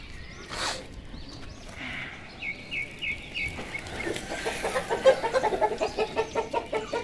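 Chickens and roosters cluck from nearby on a rooftop, a few scattered calls at first, then a fast run of rhythmic clucks that grows louder toward the end.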